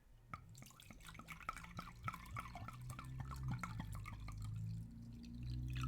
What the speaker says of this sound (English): we're going to get the glass. And what we're going to do here is we're going to fill it up with the water